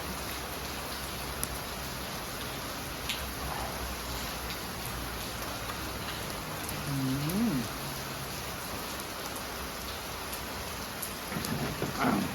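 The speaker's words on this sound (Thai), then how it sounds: "พร้อมกับบรรยากาศสายฝน เข้ากันนี้มากครับ" Steady rain falls throughout, a dense hiss of drops hitting surfaces, with a low rumble of thunder and a brief tonal sound partway through.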